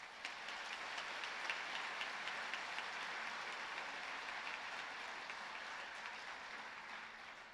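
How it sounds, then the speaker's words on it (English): Steady, dense applause from a graduation ceremony audience in a large hall, sustained and even for several seconds at a moderate distance, with no speech over it. "Audience, please give them a round of applause."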